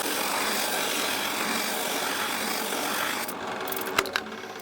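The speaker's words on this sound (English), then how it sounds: "use a sanding disc or abrasive disc or something just to sand down the insides of each of them" Steady abrasive grinding of a sanding disc against a 10mm acrylic piece, running loud and continuous before easing off near the end with a few sharp knocks.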